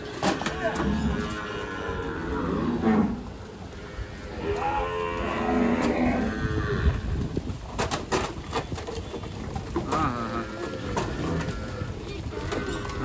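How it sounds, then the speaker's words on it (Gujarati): Several Gir cows moo in long drawn-out calls, overlapping one another amid steady outdoor noise and scattered clatter. "જો ગાયો બધી આવે છે હવે"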